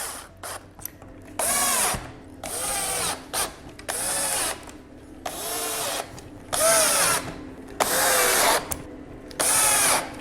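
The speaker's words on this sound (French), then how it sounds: "on va tout simplement visser pour fixer nos roulettes" A power drill drives small screws through casters into a wooden box in about seven short, loud whirring bursts separated by pauses, each burst ending with a ratcheting clutch sound, close up.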